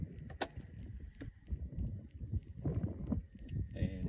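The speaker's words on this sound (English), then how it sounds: "if you put it into the ignition and give it one turn" A key turning in a vehicle ignition, with sharp metallic clicks and keyring jangling up close, followed by soft rustling handling noises at low volume.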